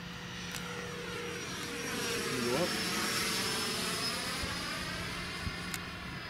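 T-45 jet aircraft flying overhead: a faint, distant engine roar swells slightly as it passes, with a brief Doppler-like sweep midway and low background hum.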